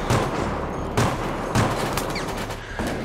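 Pistol gunfire at zombies in an Xbox 360 action game: several sharp, closely spaced shots in quick bursts over a dense, noisy game soundscape, fairly loud and with no talking.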